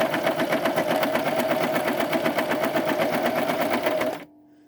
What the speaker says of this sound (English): So we'll just go about to here and see how that sews.